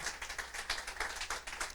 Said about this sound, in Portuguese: Você quer aplaudi-lo?